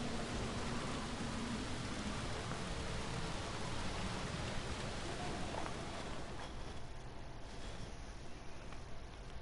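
Steady rain in the video game GTA Vice City, a dense, even hiss of falling rain that carries on throughout, thinning slightly toward the end.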